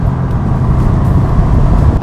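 A Bentley accelerates in sports mode along winding roads, giving a dense, loud, low engine roar mixed with road and wind rush that holds steady throughout.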